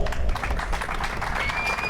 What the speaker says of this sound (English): Let's have another round of applause for Al Dorso.